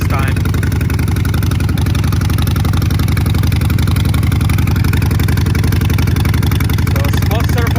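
A Harley-Davidson Sportster 48 with Vance & Hines exhaust fires up on a winter cold start, settling into a loud, close, lumpy idle with a rapid low throbbing beat that stays steady throughout.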